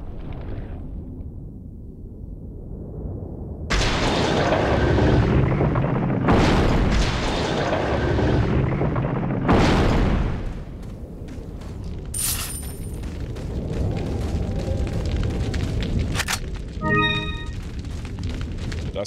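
Grenades explode in Resident Evil 4, heavy booming blasts in a fight against a giant. Several loud bursts come in close succession, then rumbling debris, clanks and brief sharp game sounds follow, with no talk.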